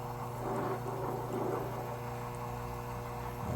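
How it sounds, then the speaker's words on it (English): Small electric air pump driving hydroponic airstones, giving a faint steady mains-like hum with a constant low tone that holds for a few seconds and shifts slightly near the end. "Pump makes a slight humming noise."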